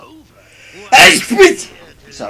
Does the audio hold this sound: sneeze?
yes